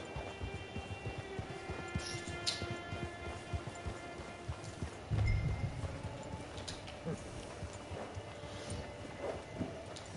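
Steady clip-clop of horse hooves trotting along in Red Dead Online, with a windy outdoor ambience and a brief louder thump midway.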